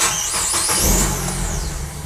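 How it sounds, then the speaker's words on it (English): A Nissan car with a P0745 pressure control solenoid fault starts up in a workshop, giving a steady, loud engine roar close to the microphone that settles toward idle, with no talk. "So this time I'm going to start the engine."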